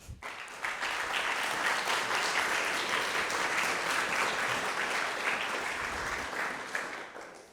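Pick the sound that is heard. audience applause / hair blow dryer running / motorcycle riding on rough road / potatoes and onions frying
audience applause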